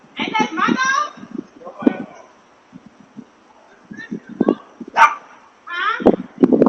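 A French bulldog barks and yips in short bursts close by, interleaved with people talking throughout.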